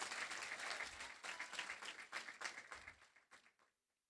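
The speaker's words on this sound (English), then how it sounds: "please let's give them another round of applause to congratulate our top 10" Graduation audience applauding the top ten of the class of 2026, a dense wash of clapping that swells, thins into scattered claps and fades out near the end.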